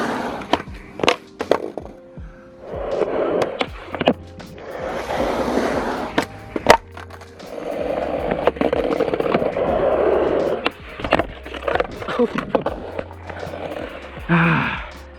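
A skateboard ridden in Converse Chucks on a bank makes a mix of rolling wheel rumble and sharp board pops and clacks as tricks are tried, with heavy breathing and gasps between attempts.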